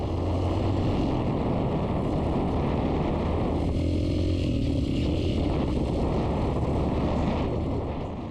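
Motorcycle engine running steadily with a brief dip in tone as the rider makes a quick upshift, then pulling on again; loud and close, continuous throughout with no voices.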